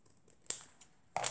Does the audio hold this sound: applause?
no